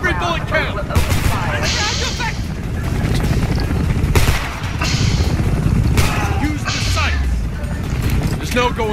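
Gunfire during a fence-line firefight in Homefront, repeated rifle and machine-gun bursts with sharp cracks and thuds, layered under shouted dialogue.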